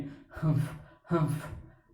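A voice imitates panting after a chase: two heavy, voiced breaths about half a second apart, near and fairly quiet, each rising then trailing off.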